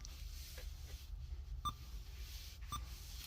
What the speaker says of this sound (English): I will turn the beep off because that is annoying me.